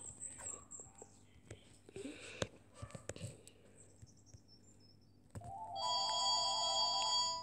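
A mobile phone's ringtone starts partway through and plays a loud, steady electronic melody to the end, after scattered quieter knocks and footsteps.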